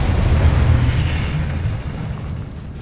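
A Confringo spell explodes in the Hogwarts Legacy video game, a loud booming blast with a deep low rumble that swells and then slowly fades over a few seconds, with no voices.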